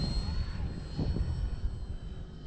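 An E-flite Valiant RC airplane flies overhead, its engine making a steady, moderately loud drone mixed with wind noise, with no talking.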